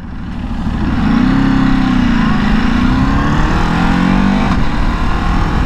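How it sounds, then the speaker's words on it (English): A 2023 Ducati Desert X motorcycle engine drones steadily and loudly up close, its pitch rising and easing, with a faint pop or two from the exhaust woven into the continuous roar. "I can hear the exhaust popping a little bit"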